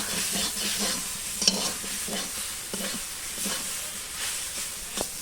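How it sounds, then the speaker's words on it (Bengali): Jute leaf greens with slit green chillies fry in a pan, a steady sizzling hiss broken by repeated scraping stirs and a few clinks of the spatula, close and continuous with no voices. "এই দেখো শাক ভাজা হয়ে গেছে, শাক ভাজা নামিয়ে নেব।"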